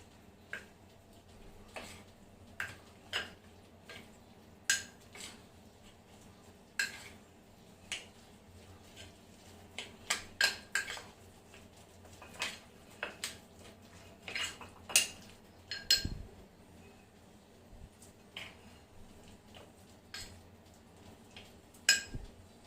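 Egg being mixed in a bowl with a utensil: quiet, irregular clinks and taps of metal against the bowl, scattered over about twenty seconds, with soft scraping between strikes.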